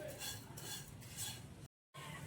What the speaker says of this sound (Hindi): अब 1 चम्मच कुकिंग ऑयल उसी फ्राई पैन में डालकर मैंने सेवइयाँ डाल दी हैं और इनको मैं अच्छी तरह से रोस्ट करूँगी